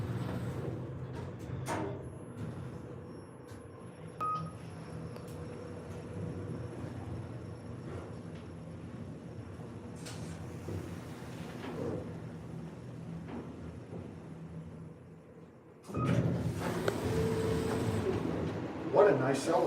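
A modern elevator installed around 2016–2017, heard as a steady low mechanical hum while the car travels between floors, followed near the end by a louder burst of door and motor noise. Quiet voices come and go over the drone.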